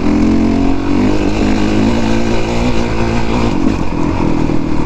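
A 450 dirt bike rides a trail through a valley, its engine loud and close throughout with a steady droning roar and slight shifts in pitch.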